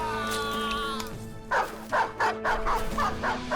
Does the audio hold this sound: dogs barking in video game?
yes